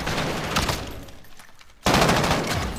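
Rapid automatic gunfire rattles loudly in a video game, a dense burst that dips briefly and then returns at full force, with no talk over it.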